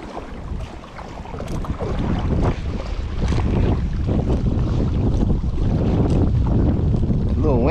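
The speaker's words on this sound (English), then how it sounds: "A little windy now too." Wind buffets the microphone while kayak fishing on Beaver Lake, Kentucky, a steady rough roar with water sloshing against the boat, continuous throughout with brief louder gusts.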